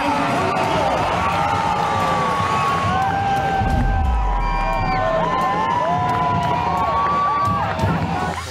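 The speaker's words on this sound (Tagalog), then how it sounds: "ganito naman kalakas ang hiyawan ng mga taga-suporta ng 2 grupo dito sa loob ng PhilSports Arena" A basketball crowd roars inside PhilSports Arena during a UNTV Cup Season 10 game, a loud continuous wall of cheering and shouting from supporters of both teams, with whoops and bursts of shrill yells rising over it.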